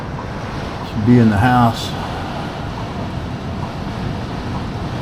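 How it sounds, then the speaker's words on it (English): Strong wind roars steadily around a cabin during a tornado warning, a constant broadband rush like surf, while a person briefly speaks over it near the start. "Come on, wind. We don't need you no more."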